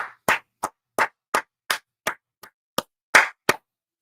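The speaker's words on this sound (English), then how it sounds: "I'm clapping right now." A person claps their hands about ten times in an uneven rhythm while following a Yankees vs Red Sox AL Wild Card baseball game; each clap is sharp, close and loud, with no talk.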